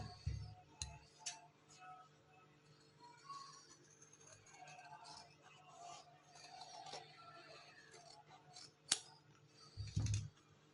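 Scissors snip through fabric for a white frock trimmed with gota lace, the quiet close cuts coming in short bursts near the start and again toward the end over a soft room background.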